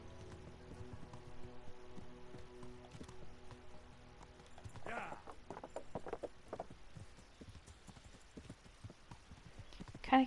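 Horse hooves clip-clop in a steady walking rhythm in the medieval game Kingdom Come: Deliverance, close and moderately loud, with a brief rustle midway and a sharp thump at the end.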